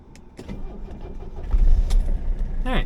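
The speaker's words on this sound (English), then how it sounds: "let's go and get my car back on." A car engine cranks and catches, a brief starter whir rising into a low running rumble, close by, with a short metallic jingle near the end.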